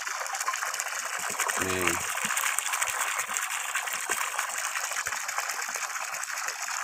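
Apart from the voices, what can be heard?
submersible well pump gushing murky water from new bore well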